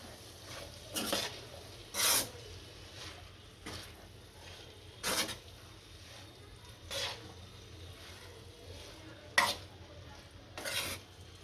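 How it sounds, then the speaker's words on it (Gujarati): Metal spoon scraping and stirring through pasta and corn in a pan, several short separate scrapes spread over a quiet background. "આની અંદર પાસ્તા નાખીશું હવે મકાઈ નાખીશું અને ભેળવી નાખીશું"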